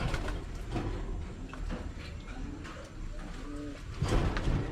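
Pigeons coo softly at a racing-pigeon loft, a few low rolling calls surfacing over steady outdoor background noise, with faint murmuring nearby.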